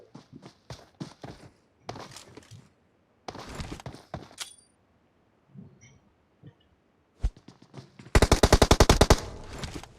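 M249 machine gun fire in the PUBG Mobile video game: after scattered footsteps and clicks, a loud rapid burst of automatic gunfire bursts in near the end, close and sharp, with no talking.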